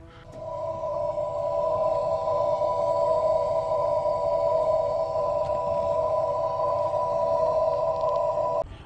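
Reversing alert speaker on a 2023 Honda CR-V hybrid emits a loud, steady electronic hum with a constant pitch, droning unbroken for about eight seconds close by before cutting off.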